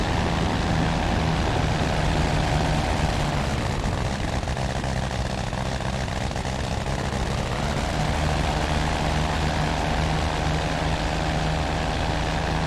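A Sikorsky S-16 biplane engine idles in the Rise of Flight game, a steady droning, rumbling hum that holds constant and close for the whole stretch.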